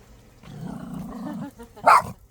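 A dog in a garden on Namhae Island, Korea, growls low and rumbling for about a second, then lets out one loud, sharp bark, with faint background voices.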